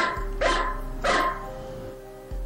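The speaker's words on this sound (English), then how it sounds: "Barking." A corgi barks in Corgi Simulator, two loud, separate barks about half a second apart over a steady low hum, with no talking.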